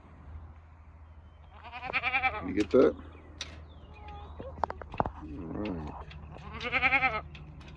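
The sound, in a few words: goats bleating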